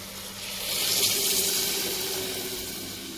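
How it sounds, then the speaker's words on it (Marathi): Water poured from a jug into a cooking pot of oil-fried masala rice base in a home kitchen, a steady rushing splash swelling after a moment and holding, then easing slightly, with no voices. "आपण त्यामध्ये पाणी टाकून घेऊयात"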